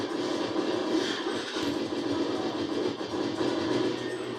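A moving train rumbles steadily inside the video game Goldeneye, a continuous rolling rail noise with faint clatter, moderately loud and unbroken, with no talking over it.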